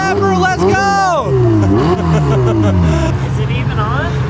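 A car engine revs loudly up close, with its pitch climbing and falling through several sharp swoops while people shout excitedly over it.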